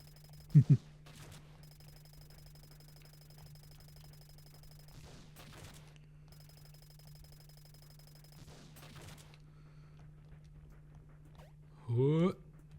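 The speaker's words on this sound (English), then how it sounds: "this shotgun fires with an... Oh my god. Fires with enough, like, oomph that it might as well be a bomb" Shotgun fire in the video game Iconoclasts: two sharp, loud blasts in quick succession near the start, then a heavier burst near the end, over a steady low game hum.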